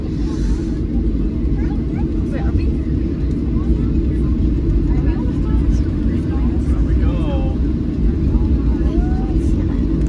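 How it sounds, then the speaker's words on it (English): Loud, steady roar of an airplane engine building for takeoff, heard from inside the cabin, with faint voices murmuring beneath the drone. "we're taking off on the aeroplane now."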